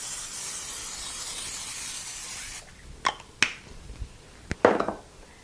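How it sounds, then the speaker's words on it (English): A long hissing spray from an aerosol can of non-stick cooking spray coating a baking dish, then a few short clicks and quick bursts of spray close by. "I'm just going to lightly spray it with some non-stick cooking spray."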